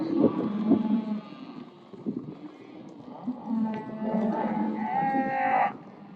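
Cattle call out in a corral where steer calves are being sorted for sale, with near, steady lowing and bawling layered together and some shuffling movement.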